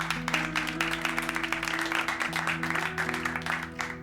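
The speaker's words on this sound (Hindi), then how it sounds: "तालियां।" A small group claps in a police-station comedy scene from the series Maddam Sir, brisk rhythmic applause running for about four seconds over a background music bed, with no speech.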